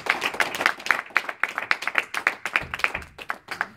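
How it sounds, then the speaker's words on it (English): A church congregation clapping hands together during a service, a steady rhythmic beat of many hands close by, carrying on for several seconds with no talk over it. "Clap your hands."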